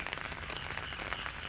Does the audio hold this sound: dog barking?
no